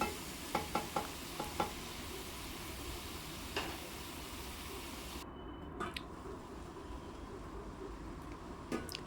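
Boiled cabbage curry is stirred in a pan over low heat, giving a soft, steady sizzle with faint scraping taps and light stirring clicks, quiet and close.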